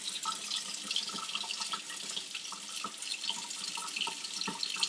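Tap water runs into a kitchen sink to rinse peas, a steady splashing hiss broken by small drips and clatters against the basin, close by and with no voices.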